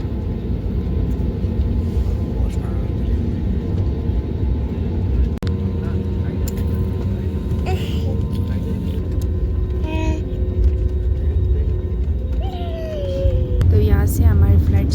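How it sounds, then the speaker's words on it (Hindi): Steady broadband roar of a passenger jet accelerating down the runway on a Delhi to Ladakh flight, heard from inside the cabin as a continuous loud engine rumble with a rising tone near the end. "तो यहाँ से हमारी फ़्लाइट स्पीड हो गई, उड़ने की तैयारी हो चल रही।"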